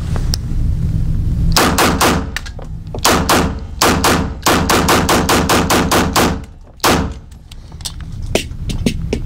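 An EAA Regard Gen 4 pistol with steel magazines fires in loud, close bursts of rapid shots, broken by short pauses while it is reloaded, then fires again.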